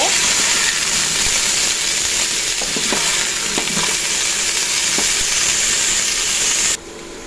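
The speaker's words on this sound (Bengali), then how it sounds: "টমেটো বাদে সবগুলো সবজি আমি ভেজে নিব।" Mixed vegetables fry in hot oil with a pinch of salt for vegetable khichuri, giving a loud, continuous close-up sizzle with occasional stirring taps, until it drops away abruptly near the end.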